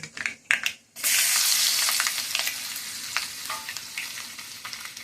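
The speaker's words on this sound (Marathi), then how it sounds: "हे इथे लसूण आणि कांदा जो आपण घेतला होता तो आता आपण चांगला खमंग परतून घेणार आहोत" Garlic and onion sauté in a pan: a short clatter and pause, then a loud, continuous sizzle sets in, with scattered scraping and stirring clicks over it and no speech.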